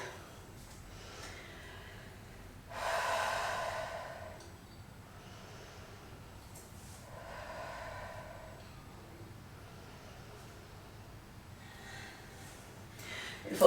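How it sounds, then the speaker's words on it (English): Slow, audible breaths during a vinyasa yoga flow, a few long soft inhales and exhales spaced several seconds apart, close and quiet over a low background hush. "Taking a couple of breaths here."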